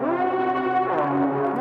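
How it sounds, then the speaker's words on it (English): Gnarly synth lead built from layered presets, with a slow low tube tone, a crunchy light layer and a gritty electric upper layer. A sustained, buzzy, harmonically rich tone bends slightly in pitch near the middle, with heavy reverb and no accompaniment. "which I wanted it to be like a very gnarly synth lead"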